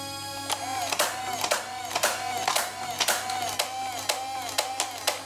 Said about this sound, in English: we can actually hear the pusher motor actuating